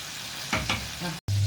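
Fish frying in oil in a pan sizzles steadily as it is flipped, with a couple of short scraping, clattering bursts from the turn over the ongoing hiss.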